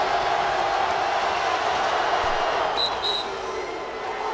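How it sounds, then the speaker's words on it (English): A packed basketball arena crowd roars steadily at a Pitt Panthers at West Virginia Mountaineers game, a dense wall of cheering with a couple of whistle-like squeals cutting through. "And this crowd going crazy."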